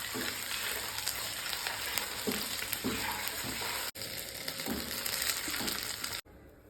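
Chilli chicken frying in hot oil, a steady loud dense sizzle that runs almost unbroken, dipping for a moment midway and cutting off sharply near the end.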